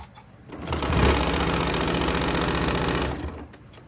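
A sewing machine runs a steady, close whir for about two and a half seconds while stitching straight across a zipper pouch seam at a 2.4 stitch length, with quieter handling noise before and after.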